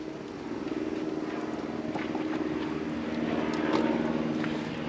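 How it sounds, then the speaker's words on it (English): A propeller airplane drones overhead in the distance, a steady low hum that swells slightly and holds throughout, with faint outdoor background noise. "Another plane."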